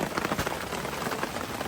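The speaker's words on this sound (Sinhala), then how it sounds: "වහිනවා හොඳටම." Heavy rain pours steadily on the trail near Paradise falls on the Baththulu Oya route to Sri Pada, a dense, even hiss with scattered close drop impacts, loud and continuous with no voices.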